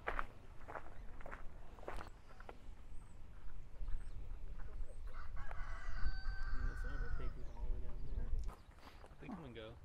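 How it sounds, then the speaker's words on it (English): Chickens and other fowl on a farm at Ambury Farm in New Zealand, with clucking and crowing calls rising in the middle amid footsteps and people talking nearby. "Hey, little chicken."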